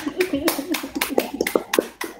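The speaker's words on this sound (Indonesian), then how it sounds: "Tepuk tangan." A class of children clapping, with a short burst of quick, uneven hand claps that mixes with children's and adults' voices talking over it.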